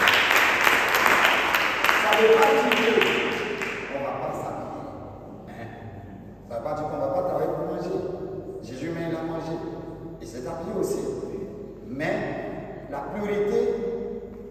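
A church congregation applauds Jesus with a loud burst of clapping and cheering that fades after a few seconds into worship singing with music.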